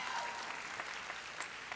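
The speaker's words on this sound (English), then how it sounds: "a round of applause" Steady applause from a crowd at a university commencement ceremony, a continuous wash of clapping at moderate distance with no voices on top.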